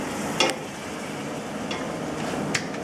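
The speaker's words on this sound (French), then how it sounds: "Tu vas nous déglacer ça avec du jus d'orange." Orange juice hits a hot pan to deglaze it during a cooking class. A steady, loud sizzle hisses throughout, with a couple of faint clinks from stirring.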